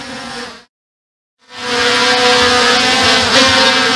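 A motor whine cuts out briefly, then surges back louder and stays steady, a loud buzzing hum of an XT204 quadcopter drone powering up to take off.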